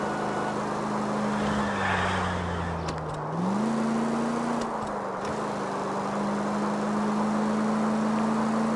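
A police car in L.A. Noire roars as it accelerates, its engine pitch climbing, dipping briefly at a gear change, then rising again and holding in a loud, steady drone close by.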